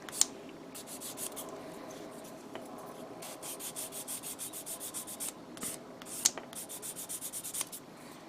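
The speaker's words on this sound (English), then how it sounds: "So obviously I have a 400 grit sanding stick or sanding sponge." A plastic model kit part is worked with a 400 grit sanding stick, making soft, close rasping strokes in a quick rhythm, with a few brief clicks of handling between passes.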